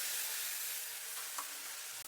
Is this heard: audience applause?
no